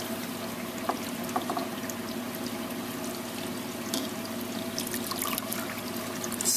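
Two-part calcium and alkalinity solution poured into an aquarium overflow, with a soft, steady trickle of liquid over a constant background hum.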